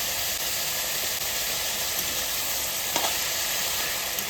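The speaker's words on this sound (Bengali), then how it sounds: "চিকেনটা সুন্দর করে ভেজে নেব" Chicken frying in a pan with salt and chilli, a steady, dense sizzle and hiss continuing unbroken throughout, close and even in level.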